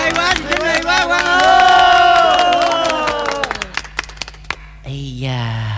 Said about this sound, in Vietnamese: Bà con mình cho một tràng pháo tay thật là nồng nhiệt